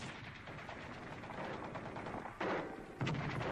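Machine gun fire crackles at a distance in a continuous rattling stream, with two louder bursts swelling near the end and no talk over it.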